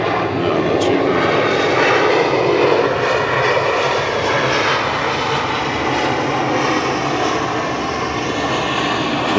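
Cargo plane engines at Atlanta Hartsfield-Jackson International Airport give a loud, continuous roar with broad rushing noise, steady for the whole stretch and close by.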